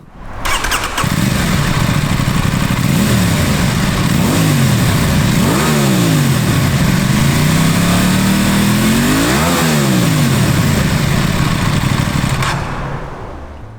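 An Aprilia Tuono 660 Factory motorcycle engine revs loudly and close, climbing and falling through several sharp throttle blips and a longer sweeping rev before cutting back to idle.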